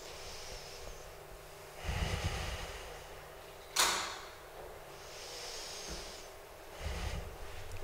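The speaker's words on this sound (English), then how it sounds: "So we'll take a couple of deep breaths." A group breathing deeply together at a gathering, with slow swelling inhales and exhales at about 2, 5 and 7 seconds, plus one sharp snort-like burst of air near 4 seconds, all soft and fairly close.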